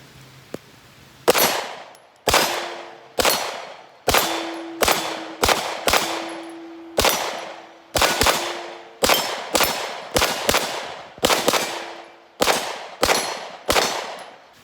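A CZ Scorpion firing from a Magpul EV9 magazine, loud sharp shots spaced irregularly, some close pairs, each followed by a brief ringing echo, outdoors with no talking.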